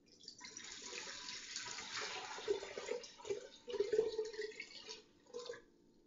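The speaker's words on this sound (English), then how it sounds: "I'm just going to put the water inside of here." Water pours and splashes steadily into a crystal singing bowl for several seconds, with faint ringing tones rising through the trickle, close and quiet.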